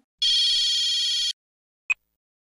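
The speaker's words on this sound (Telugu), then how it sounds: "ఇగో ఇలా ఫోన్ వచ్చినట్టుంది, వెళ్ళి చూడండి." A telephone bell rings once in a bright, loud electronic trill lasting about a second, followed by a short faint chirp, in an otherwise silent indoor scene.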